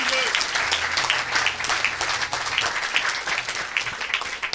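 A church congregation applauding for Jesus Christ at a French-language deliverance service, with dense sustained clapping throughout and a preacher's voice shouting over it.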